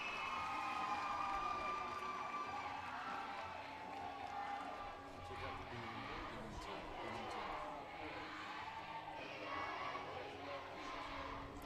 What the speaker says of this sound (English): We'll let that cheer go in for just a second.